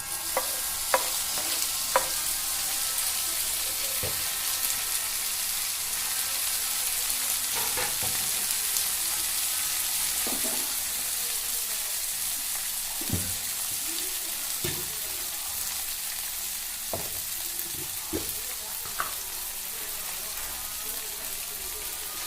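Tomatoes frying in oil for South Indian tomato rice, a steady sizzle broken by repeated stirring scrapes and clicks of a spoon against the pan, close and moderately loud throughout with no talking.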